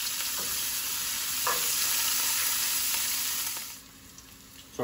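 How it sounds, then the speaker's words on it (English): Onions and garlic sauté in a pan for chicken adobo, giving a loud continuous sizzle with occasional stirring scrapes that eases down near the end, without any speech. "we want them to saute for a few minutes, just until the onions get nice and translucent"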